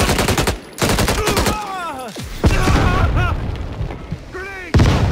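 Heavy combat in a shooter game: loud booming blasts, one likely a grenade explosion, mixed with rapid gunfire bursts and sharp impacts, close and intense, with shouted voices over the fighting.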